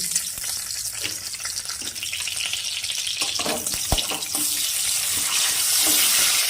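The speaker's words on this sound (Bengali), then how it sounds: "তেলের মধ্যে আমি দিলাম 2টো গোটা তেজপাতা আর অল্প গোটা জিরা ফোড়ন করে নিচ্ছি।" Whole bay leaves and cumin seeds temper in hot oil for a prawn and potato curry, giving a steady, close sizzle and crackle that rises slightly toward the end, with no talk.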